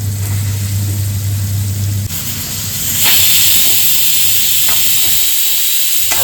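Bombil fish hit hot oil with turmeric and masala in a home kitchen pan, giving a loud continuous hiss and sizzle that jumps in intensity partway through, with a low hum underneath and occasional stirring clatter.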